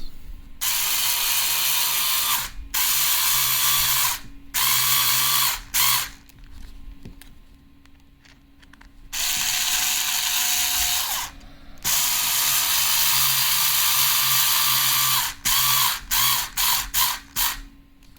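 Screwing plastic parts of an RC crawler transmission together: repeated bursts of a small electric screwdriver whirring, some long, others short stuttering pulses, close and alone.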